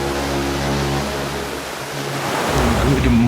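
Rain pours onto the open deck of the cruise ship Independence of the Seas near Nassau, Bahamas, a loud, steady wash of hiss and splatter alongside the low hum of the ship.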